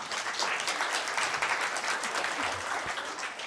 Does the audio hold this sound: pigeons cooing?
no